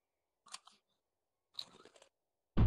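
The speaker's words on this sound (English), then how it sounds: "I'm eating Doritos" Doritos chips crunched and chewed close up: two short clusters of crisp crackling bites separated by silence, then a loud broadband crunch at the very end.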